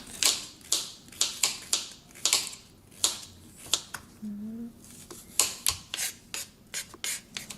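A knife cuts a carrot into small rounds on a board for Cantonese fried rice, making about a dozen crisp, close chopping taps in an uneven rhythm with a short pause midway.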